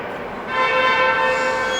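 A Disneyland tram rolls along, a steady mechanical rumble that swells after a moment into a sustained tonal whine with a humming drone beneath it.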